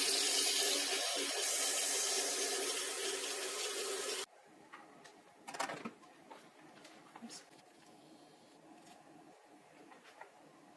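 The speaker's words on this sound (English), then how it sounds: "So it's dripping down there." Water trickles and drips through a pitcher water filter, a steady wash at first that stops abruptly, leaving faint scattered drips and soft small noises close by.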